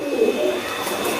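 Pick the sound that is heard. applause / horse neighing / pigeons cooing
pigeons cooing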